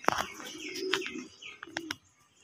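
Pigeons on a pigeon farm in Jhenaidah, Shailkupa, give a few close coos and chirps, with brief wing flutters mixed in, then fall quiet.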